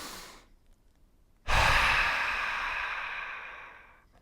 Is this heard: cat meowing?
no